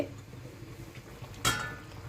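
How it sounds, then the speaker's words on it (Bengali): A single short metallic clink as a lid is lifted off a wok, close by, against a quiet background hum. "কড়াইয়ে ঢাকনা খুললাম।"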